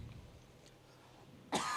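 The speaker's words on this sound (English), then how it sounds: "Coughing here." A single sharp cough bursts out near the end, following quiet room noise and faint background murmur.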